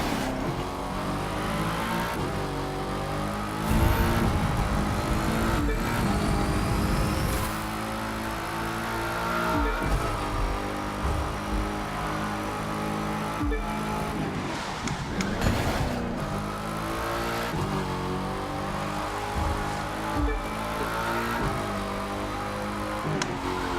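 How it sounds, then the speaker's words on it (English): A Porsche racing in The Crew 2: a loud, continuous, high-revving engine roar with shifting gear tones that holds steady and surges as the car rockets past, with no speech. "there goes that Porsche again. Just rocket past me like a hornet."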